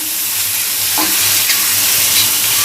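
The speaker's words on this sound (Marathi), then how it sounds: "हा कांदा चांगलासा परतून घ्यायचा" Onions sauté on a hot tawa with a loud, steady sizzling hiss and faint stirring scrapes, close up and without talk.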